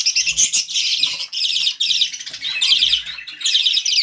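Two young hand-fed lovebirds in an aviary squawk and chirp insistently while hungry, a close, loud, continuous stream of shrill, rapid calls with brief dips between bursts.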